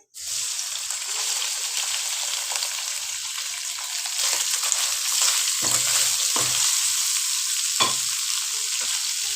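Chicken pieces stir-frying in hot oil, a steady loud sizzle that runs the whole time, with occasional scrapes and clinks of a spatula against the pan.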